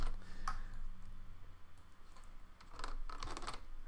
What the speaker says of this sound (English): I am using a Windows keyboard on a Mac, so I always hit the wrong buttons here